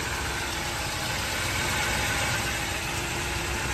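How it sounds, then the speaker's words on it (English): A 1940 Ford Deluxe Tudor sedan with its original engine idles steadily and close up, a continuous even rumble with no voices over it. "Very, very nice running car."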